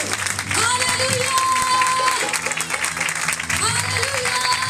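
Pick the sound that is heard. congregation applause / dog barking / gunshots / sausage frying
congregation applause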